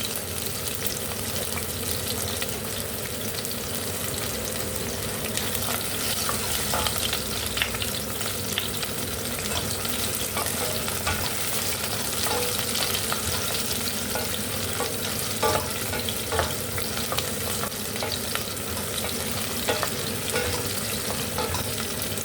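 Small onions and garlic sauté in a pan for chutney, giving a steady, dense sizzle and frying hiss with faint stirring scrapes throughout, close and continuous with no talk.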